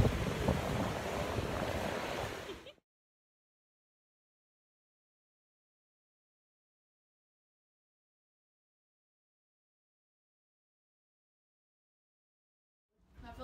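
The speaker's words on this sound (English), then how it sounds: "Look at that beautiful ocean." Ocean surf washing onto a beach, heard as a steady broadband rush with strong wind buffeting the microphone for the first few seconds before it cuts to silence; no talking.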